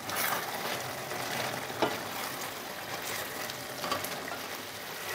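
Chicken for chicken maharani cooks in a pan as a homemade ground spice mix is added, giving a steady, close sizzle with faint stirring scrapes and a couple of soft knocks, no talking.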